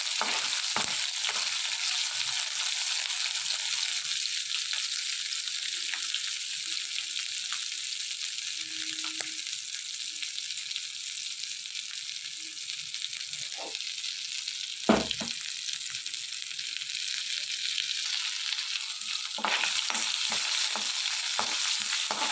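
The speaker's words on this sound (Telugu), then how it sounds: "ఇవన్నీ వేసుకొని బాగా వేయించుకోవాలి ఇలా మొత్తం అన్నీ కూడా బాగా వేయించుకోవాలి" Garlic, dried red chillies and cumin fry in hot oil as tempering for ridge gourd chutney: a steady, close, loud sizzle with occasional stirring scrapes and clinks and no talk.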